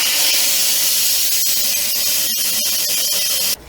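An Instant Pot pressure cooker vents steam on quick release, a loud, close, continuous hiss with a few brief sputtering breaks before cutting off abruptly at the end.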